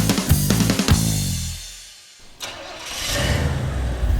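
An old beater car engine cranks with rapid rhythmic starter chugs, dies briefly to near silence, then catches and settles into a loud, rough idle that keeps running to the end.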